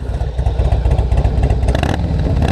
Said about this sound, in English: This has a full Vance & Hines exhaust on it. So, got a good little rumble to it.